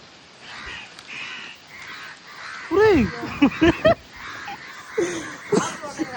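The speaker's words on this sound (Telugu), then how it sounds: "పైన కాకి పిల్లలు అయితే ఉన్నాయి కాకులు అయితే దగ్గరికి వెళ్తున్నాయి" Crows caw harshly near their chicks in a nest up above, several loud calls in quick bursts after a quieter stretch of background murmur and distant voices.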